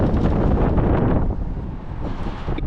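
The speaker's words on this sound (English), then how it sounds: "it's a little windy" Strong wind buffets the top of a sailboat mast, a loud broadband roar that rumbles steadily close to the microphone, easing slightly partway through before gusting again.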